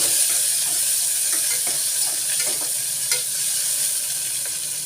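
Onions and green peas fry in a pan for sagu, a continuous close hiss and sizzle with light stirring clicks throughout and no voices.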